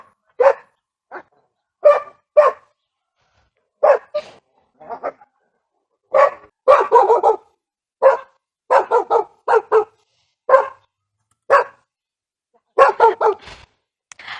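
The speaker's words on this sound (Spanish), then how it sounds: "Se escuchan los perros de fondo." Several dogs bark outdoors, short sharp barks coming in irregular bursts and clusters with quiet gaps between them, fairly loud and clear with no speech over them.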